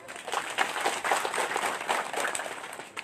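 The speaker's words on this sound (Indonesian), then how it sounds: "Tepuk tangan." Congregation clapping at a funeral service, a dense, steady patter of many hands held at a moderate level for the whole stretch, with no voices on top.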